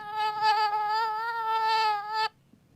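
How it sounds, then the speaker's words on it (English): A mosquito buzzing sound effect plays as a loud, close, nasal whine with a steady pitch for about two seconds, then cuts off abruptly into quiet. "Mosquito."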